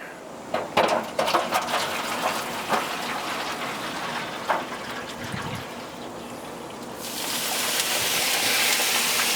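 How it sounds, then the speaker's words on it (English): Water poured into the water pan of an LSG El Patron grill, starting with a few splashy bursts and settling into a steady filling rush that grows louder toward the end. "I'm gonna put a little water in my pan here."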